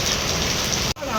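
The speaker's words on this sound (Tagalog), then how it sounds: "Ang lakas ng ulan." Heavy rain pours steadily at a fishport in Binangonan, a dense continuous hiss on surfaces that cuts off briefly near the end.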